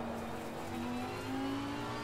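Steady, loud drone of a rear-engine race car at high speed in Assetto Corsa Competizione, the engine note holding nearly constant with a slight rising pitch and no talk.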